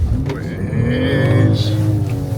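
A BMW XM SUV speeds up hard. Its engine note climbs steadily in pitch, loud and close from inside the cabin, while a voice talks over it.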